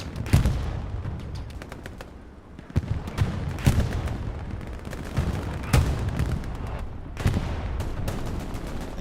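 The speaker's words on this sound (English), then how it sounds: "We have a Helios tank firing on the point proper." Tank cannon and machine-gun fire on the Stalingrad map of the WWII game Hell Let Loose: repeated sharp, booming blasts at irregular intervals over a steady rumble of battle, with several heavy shots standing out.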